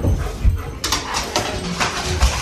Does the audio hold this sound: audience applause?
no